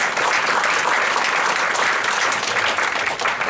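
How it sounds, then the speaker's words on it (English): A round of applause at a community meeting with state legislators, steady dense clapping from a room full of people holding at an even level throughout. "So I think we should give Rudy a round of applause."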